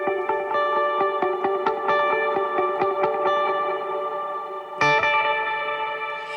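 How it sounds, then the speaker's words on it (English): Electric guitar played through reverb and delay effects in a worship-band setting: a steady run of picked notes rings out with long echoing tails, then a louder struck chord swells near the end and lingers. "there's always reverb on, there's always delay on"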